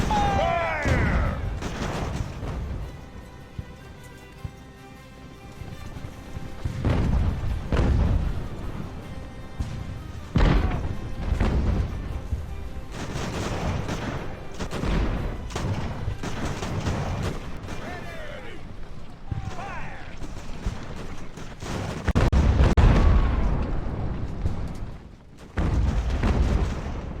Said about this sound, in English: the mortar is really performing very, very well